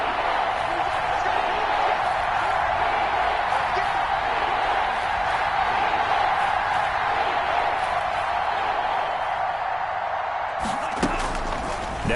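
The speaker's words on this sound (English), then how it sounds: "The crowd getting into it as we come up on a big third down." A stadium crowd roars steadily in an American football video game on PS4, a dense, constant wash of noise beneath a commentator's voice.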